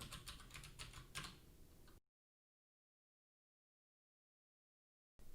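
Quick keystrokes rattle on a computer keyboard for about two seconds, then the sound cuts to silence before a short burst returns at the very end.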